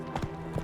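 Hooves of Roach, a horse in The Witcher 3, clip-clop in two quick paired steps, close and brief, over a soft steady background.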